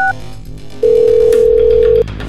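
A telephone dial tone sounds while a call is being placed, a short high beep first, then a single steady loud tone lasting over a second before it stops, with low background hum throughout.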